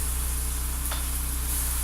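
Hamburger and pork frying in a pan while being stirred, a steady close sizzle that holds through the whole stretch, with a brief scrape of the utensil partway in.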